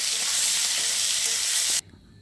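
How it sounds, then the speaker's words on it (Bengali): Potatoes frying in hot oil in a wok for aloo dum produce a loud, steady, close sizzle that stops abruptly near the end, leaving near silence. "এখন মা আলুটা ভেজে নেবে আলুর দম করার জন্য।"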